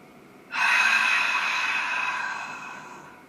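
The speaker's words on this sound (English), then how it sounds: "Lips sealed, soft inhale. Nice long exhale out." One long, soft, airy breath during a slow diaphragmatic breathing exercise starts abruptly and fades gradually over about three seconds, close and alone with no talking.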